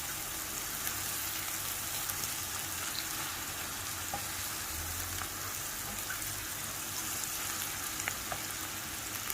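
Small shrimp fry over onions in a pan with a constant, dense sizzle and crackle that stays even and close the whole time, with no voices.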